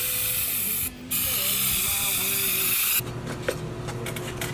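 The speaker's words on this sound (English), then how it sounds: "Next, the hood gets some needed undercoating." Undercoating sprayed onto a car hood makes a loud, steady hiss for about three seconds, then the sound shifts to a lighter, broken spraying with small clicks.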